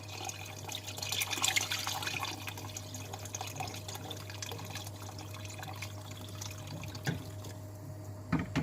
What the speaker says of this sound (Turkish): Ben 7 su bardağı su katıyorum.